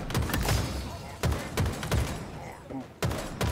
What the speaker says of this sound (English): Shooting from the ledge.